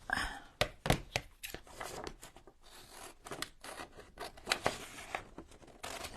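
Big scissors snip through paper for a vintage Paris journal in a string of quick, crisp, close cuts and rustles, soft and irregular, in a quiet room.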